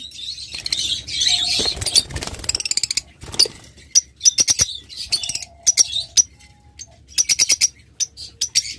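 Pet birds sold in pairs, fully marked, chirp in sharp, high bursts close by, with wing flutters and small cage clinks between the calls.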